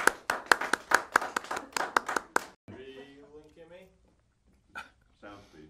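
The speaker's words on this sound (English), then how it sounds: "Let's all clap out loud for Victoria" Crisp, close clapping by a few people on a video shoot, about a dozen quick, sharp claps in a brisk rhythm, followed by people talking and a brief vocal yelp.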